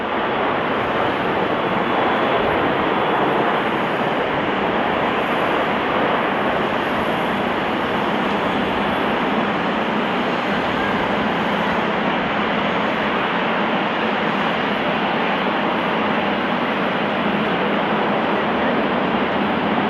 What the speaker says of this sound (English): This Airbus A340 landing too fast due to a flaps issue,